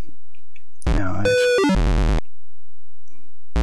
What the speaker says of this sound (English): I think that was the sound of someone dying